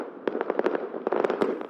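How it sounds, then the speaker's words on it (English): Fireworks let off from hidden locations in Newcastle on New Year's Eve, heard as a rapid run of sharp cracking bangs and crackles over a steady rumbling background, fairly close and loud. "fireworks were let off from secret locations, so people wouldn't be tempted to gather outside"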